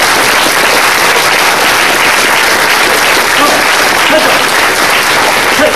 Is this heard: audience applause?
yes